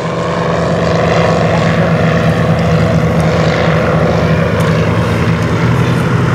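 Comper Swift, a vintage single-engine propeller aircraft, flying at an evening airshow; a loud, steady engine drone with propeller buzz holds continuously throughout, fairly close, with no voices.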